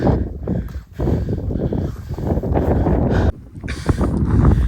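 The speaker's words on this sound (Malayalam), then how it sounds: "നല്ല രീതിയിൽ കാറ്റ് വീശുന്നുണ്ട്" Strong wind on a hilltop trek buffets the microphone in loud, rumbling gusts. Two brief lulls break the noise, one near the one-second mark and one just past three seconds.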